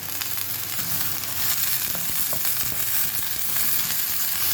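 Grated onion, peas and vegetables fry in a spoonful of ghee with a piece of lamb fat, giving a steady, close, loud sizzle with faint stirring clicks and no talking.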